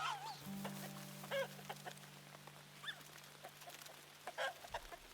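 Chickens cluck a few times on a farm in the video game Luma Island, short bursts over a low steady hum, fairly quiet.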